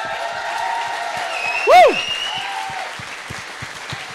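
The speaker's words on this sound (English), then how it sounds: "let's give a big round of applause to the Red Roses who are in the room" A room audience applauding the England Red Roses women's rugby squad at a 2017 World Cup squad announcement, steady clapping with a single loud whooping cheer near the middle.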